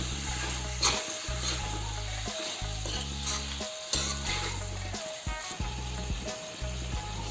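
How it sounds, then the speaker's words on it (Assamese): Local chicken meat with garlic sizzles steadily in hot oil in a pan, stirred on low flame, with a constant frying hiss and rhythmic scraping strokes of the spoon. "এতিয়া মই এনেদৰে সিজালৈকে ল' ফ্লেমত লৰাই থাকিম।"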